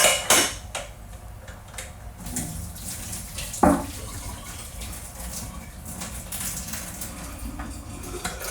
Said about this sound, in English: So we're going to drain the water off those.